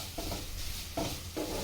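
Onions frying in a pan for mutton curry, a steady sizzling hiss with a few scraping stirs, close and fairly quiet, no voices.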